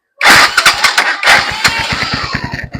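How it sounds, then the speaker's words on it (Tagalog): A Euro 150 motorcycle is started with its electric starter: the engine cranks in rapid pulses, catches with a loud roar and then settles into a fast, throbbing idle, close by with no talking. "Kaya pa niya kaya pa niya mag electric starter."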